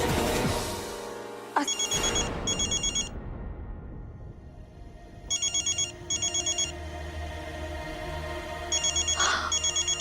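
A telephone rings in repeated bursts of electronic trills, a call from the hospital, each pair of rings separated by pauses over a low background hum.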